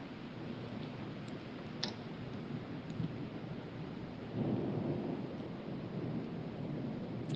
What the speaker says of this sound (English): So the rain actually did change directions on us here. It was slanted.